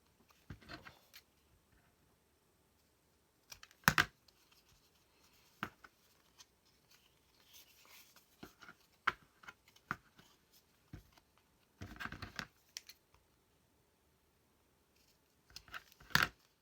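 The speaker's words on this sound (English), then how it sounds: "I can just use my scissors." Scissors snip through paper in short, sharp bursts with quiet pauses between, close and fairly faint.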